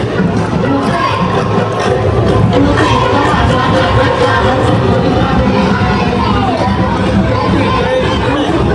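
A festive crowd celebrates at a temple, a loud, dense babble of many voices with cheering and shouting that stays constant throughout.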